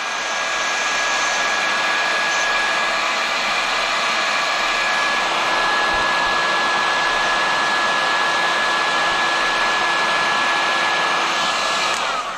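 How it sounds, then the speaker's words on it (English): A heat gun blows hot air over heat shrink tubing on wires during a 12V moped LED headlight install, a steady, loud, continuous whooshing roar with a faint constant whine, holding unbroken for the whole stretch. "I'll heat shrink this because it has a heat shrink just to be copacetic"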